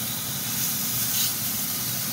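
A steak sears in hot olive oil in a pan, giving a steady, close, loud sizzling hiss with no break.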